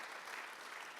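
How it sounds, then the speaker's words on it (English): Audience applause at a horse racing conference session after a speaker's talk, a steady, soft wash of clapping that holds evenly throughout, heard from a distance without voices. "round of applause"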